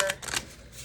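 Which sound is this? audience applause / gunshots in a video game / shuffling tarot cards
shuffling tarot cards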